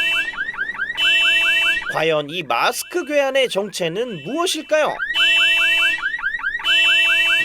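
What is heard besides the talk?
car alarm in an underground parking garage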